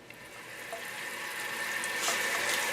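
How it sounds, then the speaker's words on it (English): Tap water runs steadily into a sink to rinse broccoli rabe, a soft continuous rushing stream that grows slightly louder toward the end, with no voices. "So now the next thing we have to do is we have to wash the broccoli rabe."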